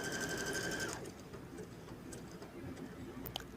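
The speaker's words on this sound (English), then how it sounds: "So we're sewing. I've got it at pretty much a full speed." A domestic sewing machine stitching at full speed, a rapid, even mechanical whir that is close and moderately loud. It shifts after about a second into quieter ticking and clicking as a reverse button is held.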